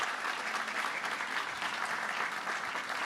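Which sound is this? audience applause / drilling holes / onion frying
audience applause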